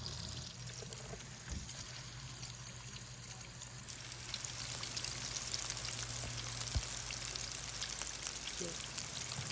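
Beer-battered crappie fillets sizzle and hiss in a pot of hot frying oil, a steady close crackle that swells slightly as more pieces go in, with a voice speaking briefly over it.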